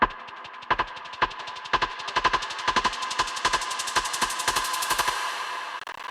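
A percussion drum loop for a liquid drum and bass track, processed with the Portal effect plugin, plays on its own as clipped, rapid hits in a stuttering pattern that grows brighter and denser before cutting off.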